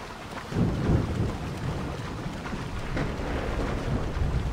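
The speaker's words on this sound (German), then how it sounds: "haben wir jetzt nur noch Donner und so und schlechte See, wenn wir auf dem Wasser jetzt sind" Rolling thunder rumbles over steady heavy rain during a storm at sea in the video game Assassin's Creed Odyssey, loud and continuous with no voices.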